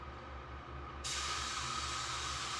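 A spray gun lays clear coat onto the trunk lid of a 7th-generation Honda Civic, a faint hiss that jumps to a steady, brighter spray about a second in and holds.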